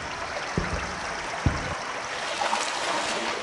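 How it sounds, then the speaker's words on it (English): A river current runs through an old subway tunnel in a video game, giving a steady, moderately loud rush of flowing water with a couple of brief low knocks early on. "This old subway tunnel seems to have a river running down it."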